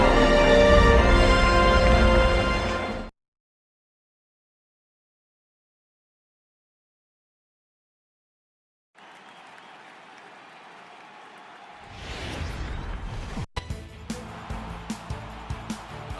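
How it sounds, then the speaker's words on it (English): A sold-out stadium crowd roars loudly in an MLB baseball video game on PS4, at ALDS Game 3 between Boston and Minnesota. The cheering lasts about three seconds, cuts to silence, then returns as quieter crowd ambience with scattered clicks. "Look there at a sold-out crowd that's been whipped into a frenzy"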